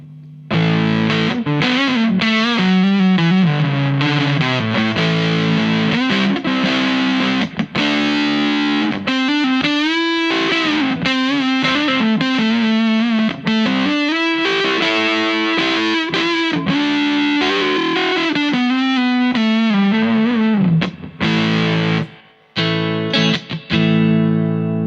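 Electric guitar played through a distortion effects pedal on a pedalboard, a sustained, heavily driven melodic line with bends and chords running loud and continuous for about twenty seconds before cutting out at the end.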